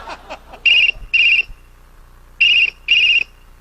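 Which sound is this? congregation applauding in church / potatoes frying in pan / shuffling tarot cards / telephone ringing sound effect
telephone ringing sound effect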